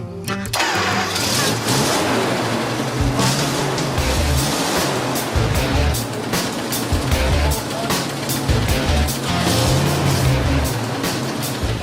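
A WWII M3 engine cranking and then catching after a distributor cap replacement, roaring into a loud, rough, uneven running rumble with sputtering pulses, up close and continuous.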